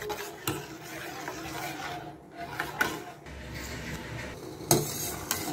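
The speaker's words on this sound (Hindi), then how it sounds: "अब हम इसे अच्छे तरीके से मिक्स कर लेंगे।" A spoon scraping and stirring custard and jelly mixture in a cooking pot, soft rubbing and scraping strokes with occasional sharper clinks against the metal, fairly quiet and with no one talking.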